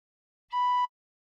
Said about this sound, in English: Uncover all the holes and soft blow once.